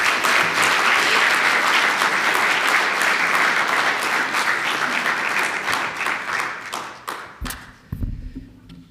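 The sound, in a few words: audience applause welcoming speaker Quentin Genuis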